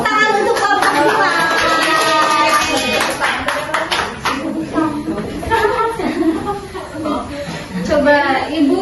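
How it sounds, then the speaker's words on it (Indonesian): Classroom applause for a student group, a burst of clapping from many hands mixed with children's chatter and a teacher's voice, fading and swelling again near the end. "tepuk tangan untuk kelompok 2"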